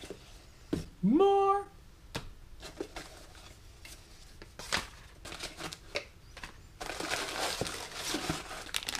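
Plastic parts package for an F4 Advanced flight controller being torn open, with a short, loud tearing rip near the start, then soft crinkling and handling rustles through the rest.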